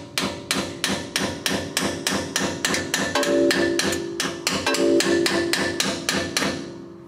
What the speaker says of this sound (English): I've got an old gasket scraper here.